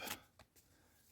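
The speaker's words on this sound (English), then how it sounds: "Let's just shuffle these up" Tarot cards shuffled by hand in a short, close burst of riffling at the start, followed by a couple of softer card taps, with no talking.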